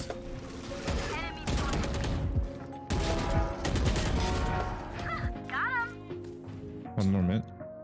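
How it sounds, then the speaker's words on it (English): Rapid minigun fire in a competitive online shooter match, bursts of dense automatic shots repeating across the clip, loud and close, mixed with game effects and voices talking over it. "Minigun."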